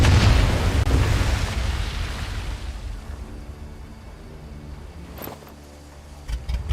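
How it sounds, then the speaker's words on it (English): A loud explosion in the virtual-reality war game Medal of Honor: Above and Beyond opens the sound with a heavy boom that rumbles and fades over several seconds, followed by a few faint clicks and thuds. "That explosion got the attention of all the German patrols in the area"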